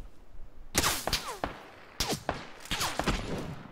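PUBG gunfire cracks in sharp, loud shots fired in quick clusters, some rapid bursts and some spaced single reports, with faint game ambience between.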